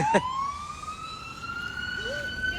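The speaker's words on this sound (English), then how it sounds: "And I hear a siren. It's a police car. SUV, actually." A police SUV siren wails steadily nearby on a city street in Toronto, its rising and falling tone sustained throughout, with a short sharp chirp at the start.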